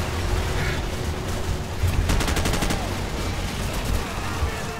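Gunfire in the video game Call of Duty 4: Modern Warfare, a rapid burst of automatic shots cracking over a constant battlefield din, with sporadic single reports around it.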